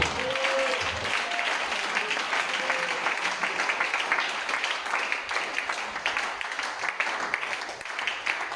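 A church congregation breaks into sustained, dense applause honoring the Lord during a sermon, steady and loud throughout, with a faint voice briefly audible at the start.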